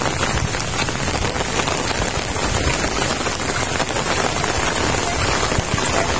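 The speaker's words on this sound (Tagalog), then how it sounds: "medyo malakas na ulan" Steady, heavy rain falls during Typhoon Enteng in Marikina City, a dense continuous hiss of drops on surfaces with no break, close and loud, and no voices over it.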